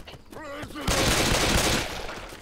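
Shotgun fire in the video game Left 4 Dead 2, a dense burst of rapid blasts lasting about a second, following a brief spoken remark.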